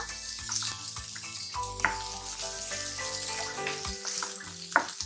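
Chopped onions frying in a pan for paneer gravy give a steady close sizzle, broken by a few louder clinks and scrapes of stirring.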